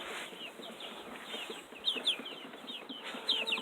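Young chicks cluck and chirp softly in short bursts, with a few sharper peeps standing out near the end against a quiet background hiss.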